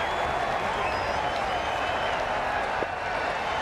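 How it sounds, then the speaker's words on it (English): Stadium crowd applauding and cheering in the cricket video game Cricket 22, a dense continuous roar of clapping that holds steady and loud throughout. "The crowd are on their feet to celebrate this remarkable performance."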